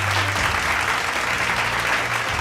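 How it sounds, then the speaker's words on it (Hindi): Loud, dense applause from an audience at a business leaders' stage event in Madhya Pradesh, steady and continuous for a couple of seconds with a low hum underneath. "एक बार जोरदार तालियां"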